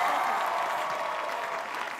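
Studio audience applause on a Spanish-language comedy sketch show, a full, even wash of clapping and crowd noise that holds steady and eases slightly toward the end.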